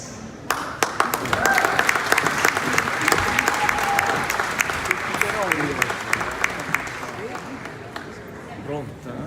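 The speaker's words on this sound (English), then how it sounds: "please, a round of applause" Audience applause welcomes a tenor onto the stage at an Italian Heritage Month celebration in Vaughan. The clapping is dense and sustained for about nine seconds, with a few whoops and voices rising through it.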